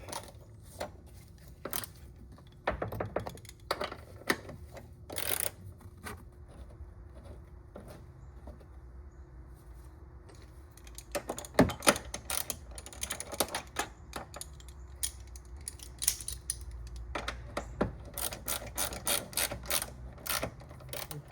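Ratcheting wrench snugging bolts on a 2009 Saab 9-3 Aero XWD rear shock mount, with bursts of quick clicking pawl ratchets and metallic taps, close and moderately loud, alone without talk.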